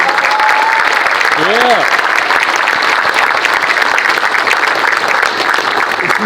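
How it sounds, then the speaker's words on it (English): An audience applauds at an event at Halas Hall: dense, steady clapping fills the whole stretch, and a single voice calls out briefly over it. "give him a real applause"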